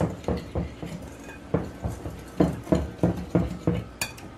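Dry cornbread ingredients, including cane sugar, are stirred together in a bowl with a utensil, giving rhythmic scraping clinks and taps about twice a second, close and fairly quiet, with no talking.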